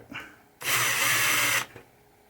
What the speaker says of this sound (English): Everything with the clear coat in reverse with your drill bit.